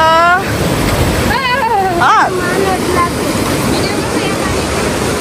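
River water rushes steadily over stones in a mountain stream below the Himalayas, a dense continuous wash close to the microphone, while voices talk and exclaim briefly over it.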